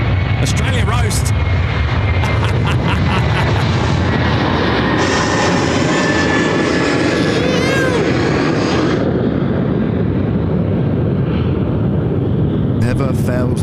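An airliner takes off from Sydney Airport on an evening departure bound for Melbourne, its engines roaring loud and steady throughout, with rumbling and crackle. Excited spectators talk and shout over the roar.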